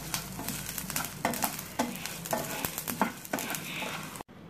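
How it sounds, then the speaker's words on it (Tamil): Curry leaves roasting in a pan, a dense crackling sizzle with repeated scraping stirs, close and steady, ending abruptly. "கருவேப்பிலை நல்லா அந்த ஈரப்பதம் போகிற வரைக்கும் ஃபுல்லாக ரோஸ்ட் பண்ணும்."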